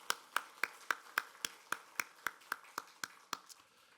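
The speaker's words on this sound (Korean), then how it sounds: "우리 하나님께 감사의 박수 한번 힘차게 올려드리겠습니다" Congregation in a Korean church service for the 75th Liberation Day thanksgiving Sunday clapping together: sharp, evenly spaced claps at a steady rhythm, about fourteen beats, fairly close and moderately loud with no talk over them.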